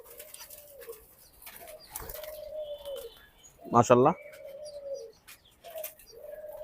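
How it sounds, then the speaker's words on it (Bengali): Doves at a dove farm with ringneck and white varieties give a few soft, repeated coos, with one louder burst of calling midway, near and clear, while someone talks over them. "ঘুঘু পাখিতে ভরপুর"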